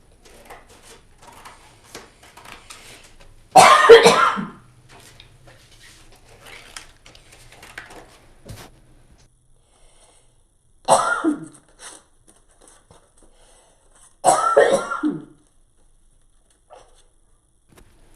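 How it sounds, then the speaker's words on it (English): A person seized by a coughing fit, three separate bursts of harsh, close coughs spaced several seconds apart, with quiet ticking and faint handling sounds of paper and scissors in between. "I'm having a coughing fit"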